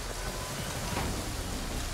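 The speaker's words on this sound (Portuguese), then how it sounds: "Mesmo que a chuva esteja atrapalhando" Rain in the video game Total War: Pharaoh falls as a steady, dense hiss of downpour, continuous and even throughout the short stretch.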